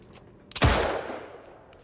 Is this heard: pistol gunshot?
yes